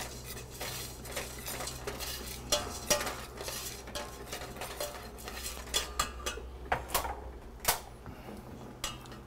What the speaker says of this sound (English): I'm just stirring it around.